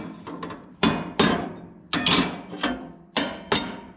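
A heavy Skag Marbeam mower blade for a 52-inch deck is struck repeatedly, giving six or seven sharp metallic hits in uneven pairs, each ringing briefly with no talk over it.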